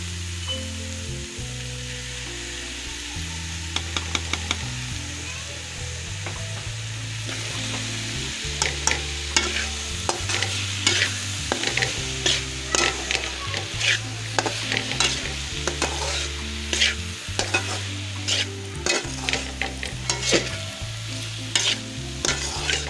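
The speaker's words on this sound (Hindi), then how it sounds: "अब मैं ये लहसुन अदरक का पेस्ट डाल दूँ।" Garlic-ginger paste frying in a hot pan, a constant sizzle punctuated by frequent spoon scrapes and taps as it's stirred, close up.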